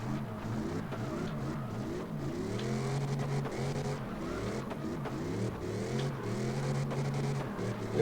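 A drift car engine in CarX Drift Racing Online 2 revs and howls continuously, its pitch sweeping up and down as the car slides, loud and steady throughout.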